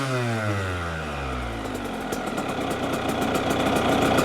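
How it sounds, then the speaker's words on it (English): A Yamaha YZ85 two-stroke dirt bike engine, brand new and running rich, revs up from idle with a rising, sustained buzzing whine that stays loud and close throughout, with no talk. "We'll rev it up here."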